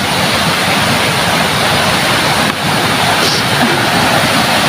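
Water flowing through a forest after a whole day and night of rain: a loud, steady, close rushing roar that stays constant throughout, with no other sounds standing out.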